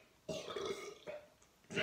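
Two rough, throaty burps come after chugging a can of cola. The first is longer and louder, and a shorter one follows, then a further burst begins at the end.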